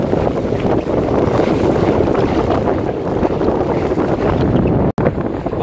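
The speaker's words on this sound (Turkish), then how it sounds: "şu an tam kafadan rüzgar geliyor" Strong headwind on a sailboat in the Greek islands roars continuously against the microphone, a loud steady buffeting with a brief dropout near the end, no voices present.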